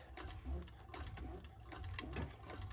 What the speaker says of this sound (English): we're going to back stitch